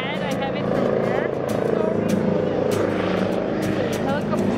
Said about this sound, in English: The helicopter over there.